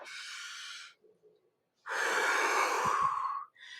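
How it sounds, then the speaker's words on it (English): A big, deep breath drawn in by a person sitting tall in a group morning meeting, heard as two close, airy inhalations with a short pause between, the second longer and fuller. "I want you to take a big, deep breath."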